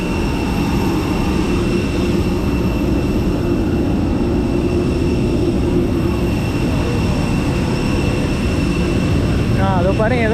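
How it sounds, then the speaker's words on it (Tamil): An airplane at an airport produces a loud, continuous broadband roar that stays steady for about ten seconds. "அங்கே ஃப்ளைட்டு போயிட்டுருக்குது."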